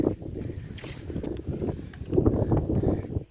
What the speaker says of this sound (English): It's spewing, it's windy today.